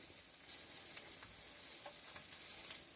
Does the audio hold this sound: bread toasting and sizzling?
yes